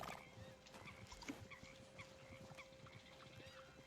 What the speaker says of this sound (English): I can hear more geese as well.